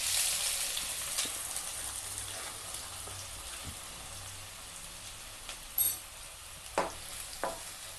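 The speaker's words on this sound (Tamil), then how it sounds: "வெங்காயமும் பச்சை மிளகாயும் நல்லா வதங்கட்டும்" Gentle sizzling of chopped onions and green chillies frying in oil in a pan, with occasional stirring scrapes and a few louder clinks near the end.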